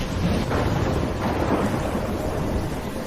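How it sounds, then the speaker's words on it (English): A thunderstorm in the video game Life Is Strange roars steadily, with heavy rain and deep rumbling thunder filling the scene, loud and continuous with no voices. "I'm trapped in a storm."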